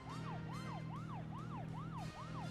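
A police car siren in the video game Deadly Premonition wails in a steady repeating rise-and-fall, about six cycles, over a constant low engine drone, no voices.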